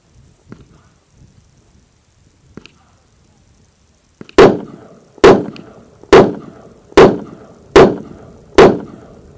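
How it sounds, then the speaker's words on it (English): Six sharp revolver shots ring out at a steady pace, each a loud close crack with a short decaying tail, after a few faint clicks and knocks. "Shooting your revolver for you."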